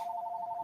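A telephone ringing with a steady electronic tone, faint and somewhat distant, heard alone in a short burst.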